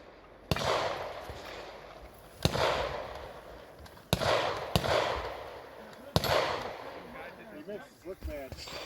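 Gunshots from a single stack 9mm pistol fired at targets roughly 40 to 50 yards away, five sharp reports at uneven intervals, each ringing out with a long echoing tail, with brief talk near the end.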